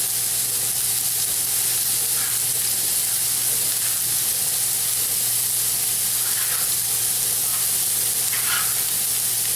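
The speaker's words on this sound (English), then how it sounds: "we're going to basically saute these carrots for, I'm going to guess, 2 or 3 minutes, maybe 4" Carrots sautéing in oil in a pan give a steady, moderately loud broadband sizzle that runs the whole time, with a few brief stirring scrapes and no talking.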